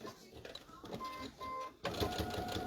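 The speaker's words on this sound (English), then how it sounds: "So we're going to stitch along those lines that we drew in." A sewing machine lock-stitches along drawn lines on an accordion pouch, running in steady mechanical bursts with a brief pause, then resuming louder and closer.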